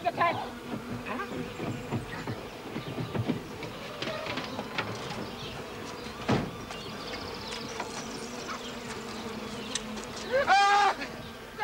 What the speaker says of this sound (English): There's a bee in this car